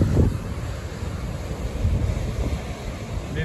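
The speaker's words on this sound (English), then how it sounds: "Seeing a little low wave coming in here." Low ocean waves wash steadily onto the beach at Vero Beach, Florida, in winter, a soft, continuous surf largely masked by strong wind buffeting the microphone.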